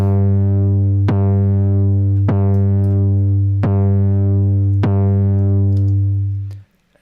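A sustained low synth-like tone driven through SoundToys Decapitator saturation with the steep filter cranked, buzzing harmonically rich and loud, with a few sharp clicks, then cutting off abruptly near the end.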